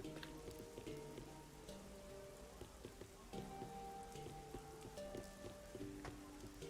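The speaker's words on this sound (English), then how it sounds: "It's just been raining non-stop for years." Steady rain falls continuously across the whole stretch in the video game Rain Code, a dense hiss with scattered drops, while soft game music tones drift underneath.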